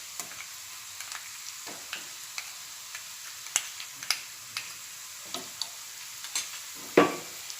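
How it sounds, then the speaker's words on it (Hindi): Green masala and onions stirred in hot oil for a sprouted moong dish, faint sizzling under a series of sharp spoon clicks and scrapes against the pan, spaced irregularly, with a louder scrape near the end. "अब मैं इसमें हरा मसाला डालूंगी"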